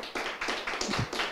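A brief burst of audience clapping at a Korean gathering, about six separate, fairly close claps in a quick uneven rhythm.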